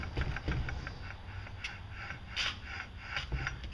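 A Vortech supercharger blower on a supercharged Mustang is spun by hand, giving a close, steady whirring rattle of its internal gears with faint ticking pulses, no talk over it.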